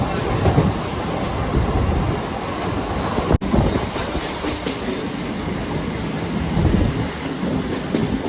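A Howrah–Bardhaman main line local train rolls along with a steady loud rumble and rattle of carriages, a brief sharp dropout midway, then continued clatter with faint squeal.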